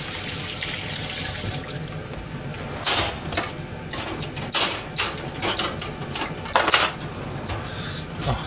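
Dishes are washed under a running kitchen tap, water streaming steadily while plates and utensils clatter and splash in bursts, close and fairly loud.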